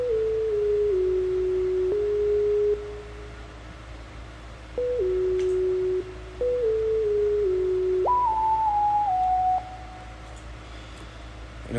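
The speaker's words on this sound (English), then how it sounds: "I have to incorporate like sine leads into every one of my beats." A smooth, pure sine-wave synth lead plays a slow gliding melody in a pluggnb beat, sliding between sustained notes over a low hum with brief pauses.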